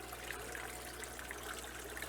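Water trickles steadily from a waterfall feature in a home aquarium fish room, a soft, continuous splashing wash that stays even and fairly quiet throughout with no voices.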